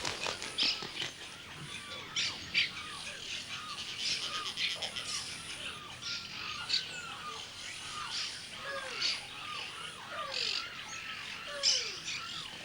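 Snail kites calling repeatedly over a flooded wilderness, with thin, curving, squeaky cries coming one after another, some near and some farther off, amid a busy background of other bird chatter and no talking.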